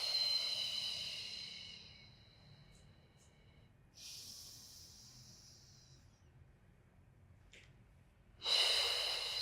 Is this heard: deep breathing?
yes